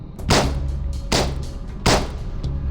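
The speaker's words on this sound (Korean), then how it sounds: "총소리?" Three sharp gunshots in the video game Reverse: 1999, each a loud crack with a short decaying tail, evenly spaced about three quarters of a second apart over a low background hum.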